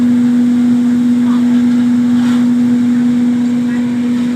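Automatic puffed rice making machine running, a loud steady droning hum with constant mechanical roar close by, with a faint voice in the background.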